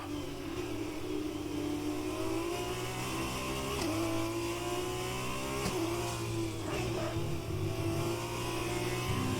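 An F2 race car in the F1 2020 game screams at high revs, its engine note climbing and dropping sharply through quick gear shifts, loud and sustained, with no voices over it.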